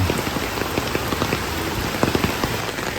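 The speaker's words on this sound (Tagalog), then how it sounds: "Halos kasi maghapon umuulan." Steady rain patters on a surface, with scattered heavier drops landing close by over a constant wash of noise.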